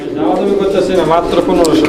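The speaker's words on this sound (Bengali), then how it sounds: "এখানে দুর্দান্ত কোয়ালিটির একজোড়া টেলমার্ক কবুতর রয়েছে" A pair of Telmark pigeons coo steadily at close range, soft throaty calls running without a break across the whole stretch.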